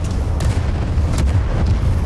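Cannon fire aboard an airship in the game Worlds Adrift, heavy low booms repeating in quick succession over a constant loud rumble.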